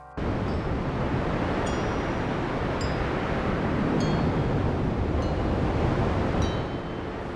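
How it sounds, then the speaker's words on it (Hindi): A strong rainy-season storm wind roars as a broad, continuous rush at a constant level, after a short quiet start. Faint high clinks and ticks recur every second or so within the gusts. "आसमान में काले बादल छा गए, तेज हवाएं चलने लगी।"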